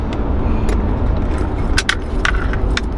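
Keys for a 1989 Mercedes-Benz 560SL jangling, several bright metallic clinks in quick clusters over a low engine or road rumble, close and distinct.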